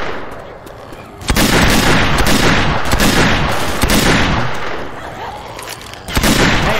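Gunfire and a pipe bomb blast in the zombie shooter Left 4 Dead 2 at a dark carnival, a loud, dense barrage of shots and bursts that runs steadily, with a sharp jump in intensity partway through.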